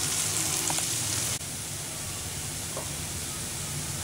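Onions sautéing in a pan for a Tamil colocasia fry, with salt and asafoetida added, give a steady broadband sizzle and hiss that dips briefly partway through, with a faint tap or two of a spoon.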